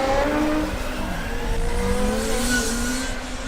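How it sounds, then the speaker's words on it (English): Formula Student race cars circle a track during an endurance event, their high-pitched engines whining steadily as they rise and fall in pitch through gear changes, loud and continuous. "8 cars on track"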